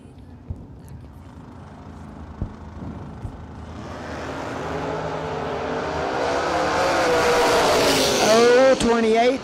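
A 1991 Ford Mustang drag racing at a RAD Torque Systems Fall Fling event roars as it launches, its engine note climbing steadily louder and higher, with tire noise near the end.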